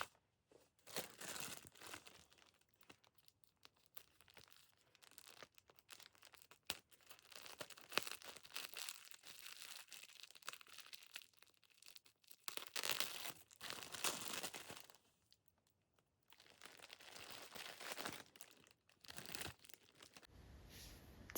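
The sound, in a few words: opening a small packet, crinkling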